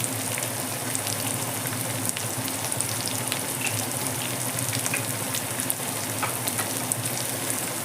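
Vegetables and green leaves fry in a pan for a green leaf chutney, giving a steady, close sizzle that holds evenly throughout with no talking.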